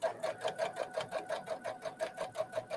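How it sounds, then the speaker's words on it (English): A Brother sewing machine stitching at a steady medium speed, its needle strokes forming an even, rapid rhythm of regular pulses, close and moderately quiet, with no talking. "while you're stitching with this, you want to make sure that you're at a medium speed"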